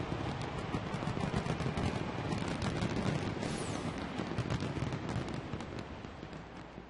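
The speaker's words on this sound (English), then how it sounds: "stay for spectacular post-game fireworks" Post-game fireworks at an Angels baseball stadium crackle and boom in a dense, continuous barrage, loud and sustained with a crowd-like wash underneath.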